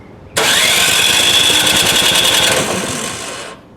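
A snowblower engine cranks briefly then catches and runs with a loud, rough, rattling roar before cutting off near the end.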